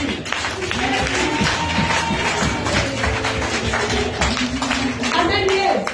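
A church congregation at a Sunday service claps along amid dense, continuous crowd noise, with voices singing or calling out loudly over the steady clapping throughout.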